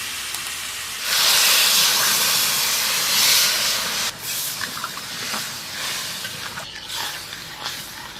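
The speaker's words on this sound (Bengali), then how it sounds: "আগো সব কষা হয়ে গেল, এবারে জল দিতে হয়েছে।" Water poured into a hot pan of sizzling chicken curry, giving a loud burst of steamy hiss that peaks, eases, then settles into a softer ongoing bubbling sizzle with faint clinks.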